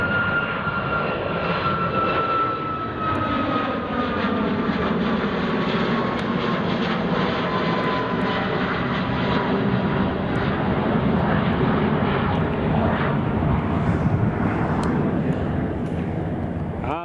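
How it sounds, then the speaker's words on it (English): A WestJet Boeing 787-9 airliner at Edinburgh Airport gives off a loud, sustained jet engine roar with a slowly falling whine, steady and close for the whole stretch, with a voice faintly underneath. "WestJet 787 is next, folks."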